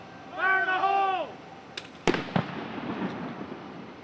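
A bomb squad disrupter fires on a suspicious package at Purdue: after a raised voice calls out a warning, a single sharp blast cracks out, followed a moment later by a second, smaller bang and a fading rumble.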